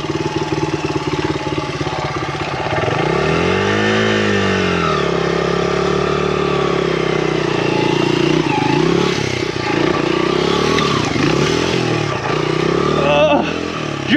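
A farm motorcycle working up a steep mountain-top enduro trail, its engine loud and close throughout, revving up and down in rising and falling swells while a rider talks over it.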